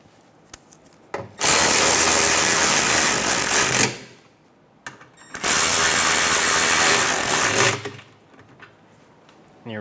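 Two bursts of rapid ratchet clicking while tightening a pair of 10 mm bolts on a 2014-2019 Toyota Highlander during an O2 sensor replacement, each burst loud and close, lasting a couple of seconds with quiet between.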